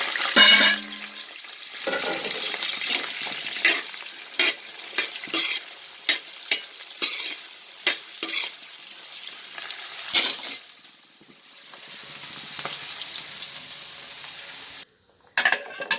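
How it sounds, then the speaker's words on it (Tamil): Fennel, cardamom, cinnamon, onion and green chili frying for prawn biryani make a loud, continuous sizzle broken by repeated sharp stirring scrapes against the pan, with a short pause near the end. "சோம்பு, ஏலக்காய் வதங்கிட்டு இருக்கு இறால் பிரியாணி செய்யறதுக்கு."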